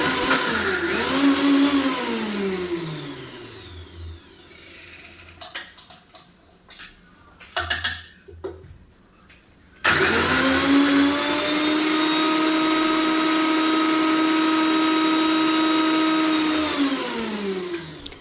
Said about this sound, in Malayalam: കുറച്ച് നമ്മളെ മിക്സിൻ്റെ ഒച്ചക്കൊന്ന് നമ്മളെ വീഡിയോയിൽ ഉൾപ്പെടുത്താന്ന് വിചാരിച്ചതാണ്